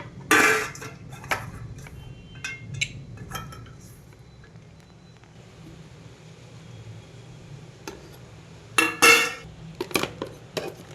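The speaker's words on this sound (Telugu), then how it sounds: "ఇది గరిటెతో కొంచెం బాగా కలపండి" A ladle clinks and scrapes against a bowl while a pickle mixture of lemon juice and turmeric powder is stirred, with sharp metallic bursts at the start and end and a quiet stretch between.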